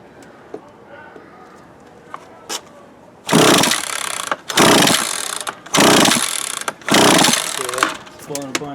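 A Craftsman 42cc chainsaw, left unused for years and with a loose spark plug, is pulled over again and again, each pull giving a loud, rough burst of close engine sputter after quiet handling noises and a few faint words.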